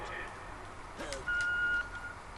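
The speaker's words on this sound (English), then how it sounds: "leave a message at the beep" A single steady electronic answering-machine beep from the video game Ratchet & Clank (2016), sounding clearly for about half a second over a low background hum.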